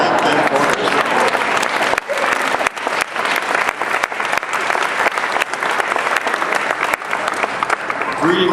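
Sustained applause from a large audience at the Oregon Bach Festival, a dense, steady wash of clapping that continues loudly and evenly throughout.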